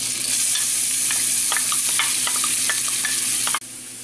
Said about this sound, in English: we're going to saute the onions here